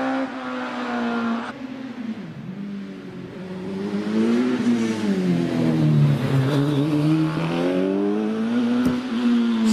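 A Hayabusa-engined hill climb race car with a space frame chassis accelerates hard at Prescott, its high-pitched engine screaming and climbing through gears with sharp shifts, loud and close, with no talk over it.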